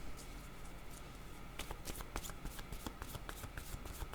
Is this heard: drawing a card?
yes